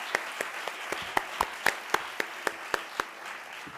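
Scattered clapping at an awards closing ceremony, a few distinct sharp claps spaced out rhythmically rather than a full ovation, fairly close and moderately loud.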